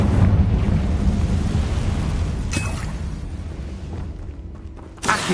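A Confringo fire-blast spell explodes in Hogwarts Legacy, a loud rumbling boom that slowly fades over several seconds, with a sharp crack near the middle and another burst at the end.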